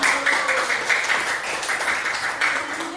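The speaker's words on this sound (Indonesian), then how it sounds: "beri tepuk tangan untuk kelompok 1" Classroom applause for student group one during a food-chain lesson, a brisk, even patter of many hands clapping close by and fairly loud throughout, with a faint voice mixed in.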